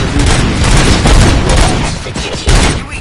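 Gunfire in the Robocop: Rogue City video game crackles in a dense, loud burst of rapid shots and booms that fills the whole stretch, with a sharper blast near the end.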